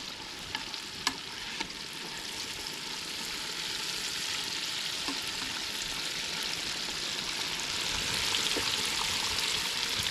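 White bass eggs fry in hot grease at 350 degrees, giving a steady, dense crackling sizzle that holds throughout and grows slightly louder toward the end, with occasional sharper pops.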